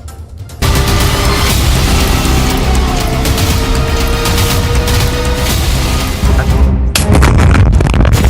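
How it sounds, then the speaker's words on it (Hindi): A loud, sustained roar of an explosion with heavy rumbling and crackling debris, followed by a second sharp blast near the end. "पहला धमाका"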